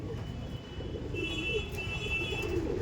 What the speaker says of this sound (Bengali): দেখুন, এটা ছিল একটি নর পায়রা